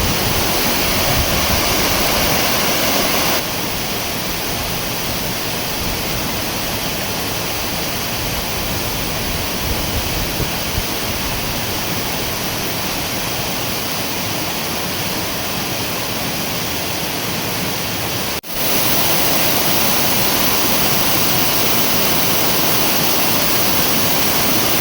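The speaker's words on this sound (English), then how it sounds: "I am actually pleasantly surprised how impressive this waterfall is." Hays Falls, a 24-meter waterfall in New Brunswick, roars as a steady, loud broadband rush of falling water that continues unbroken throughout, apart from one brief dip in level.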